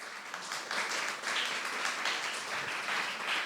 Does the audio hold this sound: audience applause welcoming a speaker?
yes